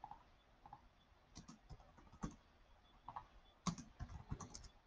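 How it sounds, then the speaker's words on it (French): Someone types a search term on a computer keyboard, a quick irregular run of close, fairly faint key clicks in small bursts, with no one speaking. "Si je tape par exemple architecte"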